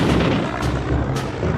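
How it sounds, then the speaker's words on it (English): Rapid bursts from the four M3 20mm cannons of a Skyraider attack aircraft, loud repeated booming gunfire filling the short stretch with two sharper cracks. "It is armed with 4 M3 20mm cannons."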